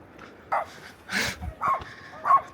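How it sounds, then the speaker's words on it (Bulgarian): Several dogs of one family bark in short, separate yips and woofs along the Salkantay mountain trail in Peru, fairly close with gaps between barks. "Тук имаме семейство кучета."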